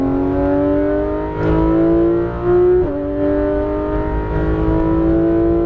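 A Porsche 911 GT3 RS (991) on a racing circuit accelerates at full throttle, its loud engine note climbing in pitch, dropping briefly at a gear change, then rising again, heard close from inside the car.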